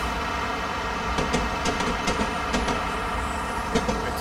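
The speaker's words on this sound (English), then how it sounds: "I go full throttle and the train doesn't want to go any faster" A train on the Chiltern Main Line from Marylebone to Oxford in Train Simulator 2017 runs at full throttle, with a steady engine drone and a rumble of wheels. Irregular rail clicks repeat over the top.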